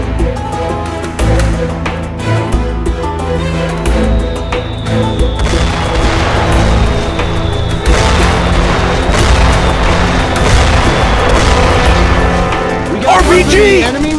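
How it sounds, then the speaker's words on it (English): Mortar explosions in the Modern Combat Sandstorm game boom and crash repeatedly across a dense battle soundscape of gunfire and mechanical clatter, with a voice shouting over the chaos. "Mortar fire! Incoming!"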